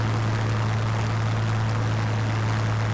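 Spitfire Mk IXc piston engine in a Microsoft Flight Simulator replay near Santa Barbara, a steady loud droning propeller roar with a constant low hum throughout.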